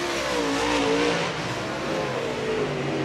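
Race cars roar around a track during a heat race, a loud, continuous blend of engines with shifting pitch as the cars pass, with no voices.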